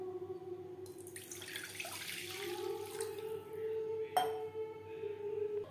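Water pours into a pan for making sugar syrup for chickpea-flour motichoor laddu, a steady splashing stream that rises and shifts in pitch as the pan fills, with a small clank partway through.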